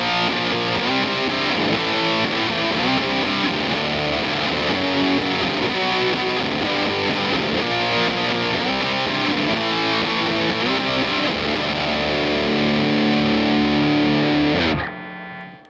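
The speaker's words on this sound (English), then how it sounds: "Just really crank that distortion." Heavily distorted electric guitar hammers out chords in a riff, loud and sustained with open strings ringing between changes, then cuts off abruptly near the end.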